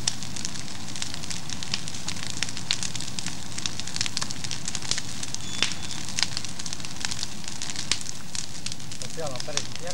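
A large outdoor bonfire crackles loudly and continuously, with dense pops and snaps over a roaring rush of flame. A voice is heard briefly near the end.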